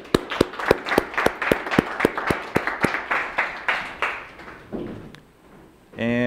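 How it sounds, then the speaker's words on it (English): A small meetup audience at a Python talk applauds its speakers with a few distinct, rhythmic claps close by. The clapping thins out and fades, then a voice starts speaking at the very end. "let's give our speakers a round of applause"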